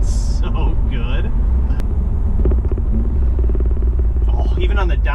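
A BMW F30 fitted with an MST Performance intake rumbles loud and low through downshifts, its deep engine drone steady throughout while voices talk over it.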